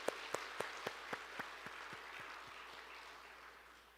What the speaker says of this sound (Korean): 감사의 의미로 박수 한번 올려드리겠습니다